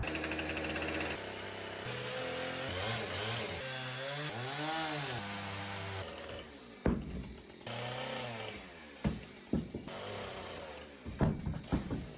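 A chainsaw cuts the ends of cabin logs, about a foot off each. A long, loud revving whine rises and falls as it bites, then gives way to idling, clunks and knocks of the wood.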